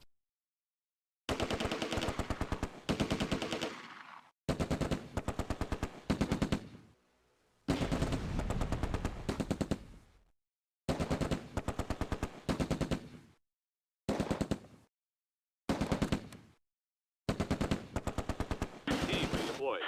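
Bursts of machine-gun and rifle fire ring out during a World War II firefight in the video game Close Combat: A Bridge Too Far. Rapid, loud volleys repeat in separate clusters with short silent gaps between them.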